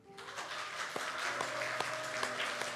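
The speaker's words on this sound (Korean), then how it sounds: "큰 박수로 환영해 주시기 바랍니다" A church congregation applauds to welcome its teachers, a soft, steady patter of many hands clapping that swells in just after the start and holds, with a faint tonal hum underneath.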